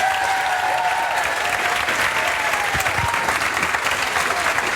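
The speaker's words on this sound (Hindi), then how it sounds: "बबीता मैम के लिए जोरदार तालियां बजाओ" Steady applause from a classroom audience honoring teacher Babita, dense clapping sustained at even loudness throughout with faint murmuring underneath.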